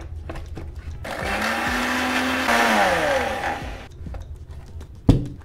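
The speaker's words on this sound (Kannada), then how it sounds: "ಈಗ ಮಿಕ್ಸರ್ ಮಾಡೋಣ ಬರ್ರಿ" Kitchen mixer blending a mango milkshake of milk, cream and ice cubes, a loud whirring motor run of about three seconds that rises in pitch, starts and stops abruptly, and ends with a clunk.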